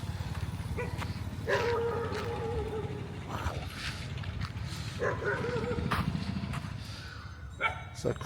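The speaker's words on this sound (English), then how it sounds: "Now we're going to hear dogs in the background." Several dogs bark in the background near a floating village in Kampong Chhnang, Cambodia, with distant, moderately loud repeated barks in short bursts.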